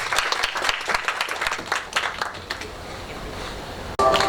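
Crowd at a business tech talk clapping in dense applause that thins out and fades to near quiet by the end, then a brief sharp noise just before the close.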